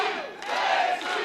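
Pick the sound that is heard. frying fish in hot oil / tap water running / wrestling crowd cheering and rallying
wrestling crowd cheering and rallying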